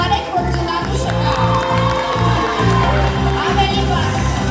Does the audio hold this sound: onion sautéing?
no